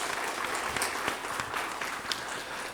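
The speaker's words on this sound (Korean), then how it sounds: "오늘 우리 33분 우리 박수 한번 세게 한번 해요" Congregation at a church service clapping hard together, a dense, steady burst of applause that fills the room without a break, with a few sharper claps standing out.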